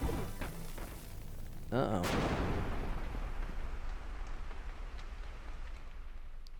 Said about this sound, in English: that explosion sound effect was a long time before the actual bomb went off.